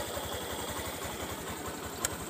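A motorcycle engine idles after being started, a steady low rhythmic putter of regular pulses, close and even, with one small click near the end.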